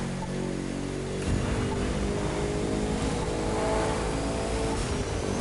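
A W16 car engine in The Crew 2 drones loudly and steadily at high speed, a continuous roaring hum with wind-like rush throughout.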